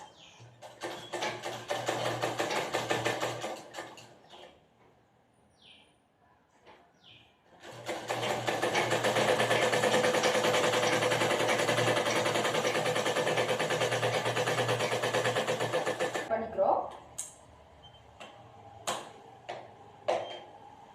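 A sewing machine joins blouse panels with a fast, steady mechanical whir, running in two long stretches separated by a brief pause, then a few isolated clicks and knocks at the end, close and alone.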